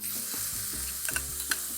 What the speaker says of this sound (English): when it comes to squid, it's all about flash frying, so in it goes